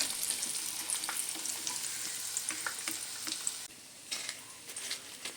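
Vegetable chops fry in hot oil with a constant bright sizzle close by, with a few soft clinks of stirring or lifting. The sizzle drops in level briefly near the end, with no talking.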